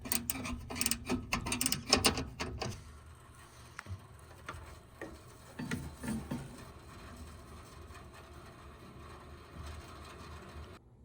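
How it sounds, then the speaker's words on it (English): Bolts tightened on a belt-driven blower motor pulley mount, with a burst of rapid ratcheting clicks early on, then scattered metallic ticks and clanks at a quieter level, close by and without talk. "I'm going to go ahead and start tightening down on all of these bolts"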